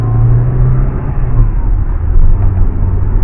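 An Acura Integra drives along, a loud low engine rumble and road drone heard from inside the car, steady with slight swells as it pulls and shifts, with no talking.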